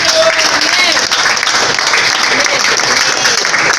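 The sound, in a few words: applause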